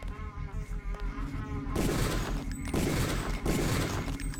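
Sustained bursts of gunfire in Deus Ex crackle loudly in two long volleys, breaking off briefly between them after a quieter buzzing lead-in.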